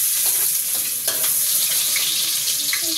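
Cooking oil heating in a pan for sinigang na hipon (shrimp in sour broth), giving a steady close sizzle and crackle with a few brief clinks of a utensil, no talk.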